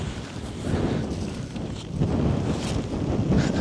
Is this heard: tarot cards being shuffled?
no